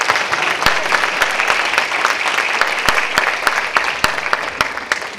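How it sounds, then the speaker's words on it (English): An audience at a school band concert claps loudly for the musicians, a thick steady roar of hands broken by sharp, louder individual claps close by, continuing throughout. "Can we give everyone a round of applause?"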